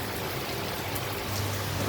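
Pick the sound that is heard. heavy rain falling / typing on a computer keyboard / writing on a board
heavy rain falling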